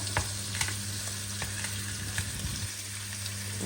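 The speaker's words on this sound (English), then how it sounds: "And there, like so, it is cooking nice and sizzling." Steak fries in melting butter with garlic, a steady close sizzle with brief stirring pops and scrapes, constant and fairly quiet, with no talking.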